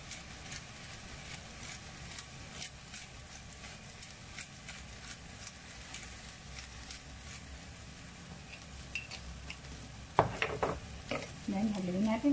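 Stir-fried mixed vegetables being stirred in a pan, soft scraping strokes over a quiet sizzle, then louder clattering knocks of a utensil against the pan toward the end.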